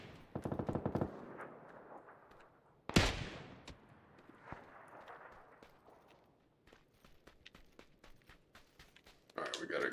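Gunfire in the shooter PUBG on Xbox comes in a few sharp bursts and single cracks, with one loud blast standing out, amid quieter stretches and faint footsteps.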